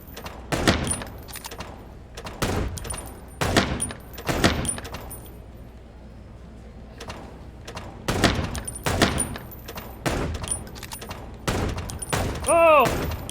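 Sharp, separate gunshots ring out in The Chicken Police, each burst spaced a second or two apart with quiet gaps between, loud and close, with occasional talking in between.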